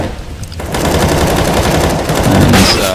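Rapid pistol gunfire in a Counter-Strike: Global Offensive match on Dust 2, a dense burst of loud shots that starts after a quieter half-second and carries on steadily to the end.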